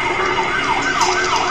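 Ambulance siren wailing loudly and continuously, its pitch sweeping up and down in a rapid yelp, over a low rumble of road traffic.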